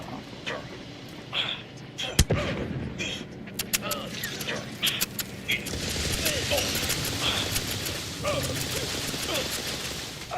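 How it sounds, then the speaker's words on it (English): Grenade blasts and bursts of gunfire in the video game The Outer Worlds 2 pop and crack in rapid, irregular volleys. A sharp loud hit sounds early, then a dense stretch of battle noise. "Keep throwing grenade."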